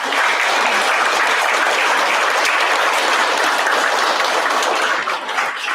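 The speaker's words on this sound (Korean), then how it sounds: "한미동맹을 최초로 출범시킨 한미 양국의 지도자들에 대해서 여러분들께 감사의 박수를 제안드리고자 합니다." Dense, sustained applause from a large audience at a 2023 Korea–US peace and unification forum, loud and steady throughout before thinning slightly near the end.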